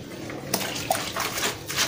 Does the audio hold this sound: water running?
yes